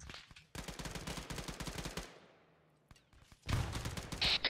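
A heavy mounted gun in a military video game fires long rapid bursts, loud and close, with a pause between them and more rapid fire near the end.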